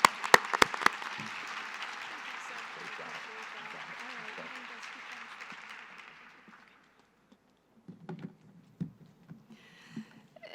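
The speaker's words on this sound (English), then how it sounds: "Let's give her and her team a round of applause." Applause from a summit audience fills the first seven seconds as a steady clapping wash, then fades to near silence before faint voices and stage noise return.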